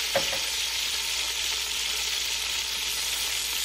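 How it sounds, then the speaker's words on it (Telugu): Sliced bitter gourd with salt and turmeric sizzles loudly and evenly in a hot pan, opening with a single scrape of a spoon, then a constant close hiss without speech. "టర్మరిక్ పౌడర్ వేసుకొని ఒకసారి బాగా మిక్స్ చేసుకోవాలి."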